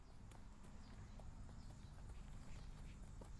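A jump horse trotting in a riding arena, hooves giving a steady, fairly faint clip-clop rhythm over constant low background noise.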